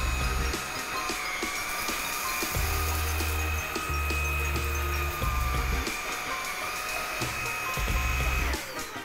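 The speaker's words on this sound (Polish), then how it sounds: "Najpierw sobie pojedziemy odkurzaczem na trybie pierwszym, czyli tym najcichszym." A Xiaomi Dreame V10 cordless handheld vacuum cleaner runs on its quietest lowest mode, a steady high motor whine with airflow hiss, with low rumbling pulses as it is pushed over the floor.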